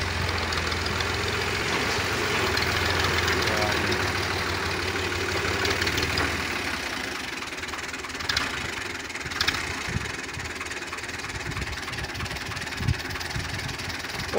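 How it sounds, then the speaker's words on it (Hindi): A tractor pulling a trolley loaded with crushed stone idles steadily at a site, a continuous low engine rumble that drops slightly after a few seconds, with a few faint knocks and clanks toward the end. "तो ये देखें ट्राली एक और आ गया"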